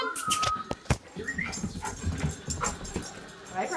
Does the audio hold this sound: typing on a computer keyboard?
no